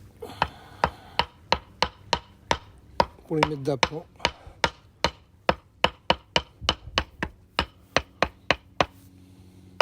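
Rapid series of sharp, evenly spaced knocks as a hammer handle taps concrete garden border stones set on a concrete footing, about twenty-five close, loud hits with a brief scraping sound midway and a few words spoken.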